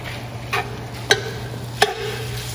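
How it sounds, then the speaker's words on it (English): Meat browns in a pot for a Cajun pastalaya, a soft steady sizzle under a constant hum, with two or three sharp spoon knocks and scrapes against the pot and no talking. "we're gonna let this all brown together."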